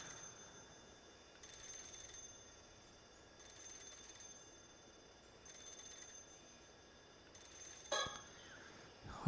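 A telephone ringing in the Paranormasight video game: repeated shrill electronic ring bursts at steady intervals over a dim ambient background, with no talk.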